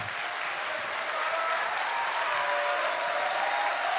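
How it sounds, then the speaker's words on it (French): An audience at a live speedrun charity event on an indie stage breaks into sustained applause, a dense, steady wash of many clapping hands that holds level for several seconds without speech. "je vous propose de faire un tour d'applaudissement"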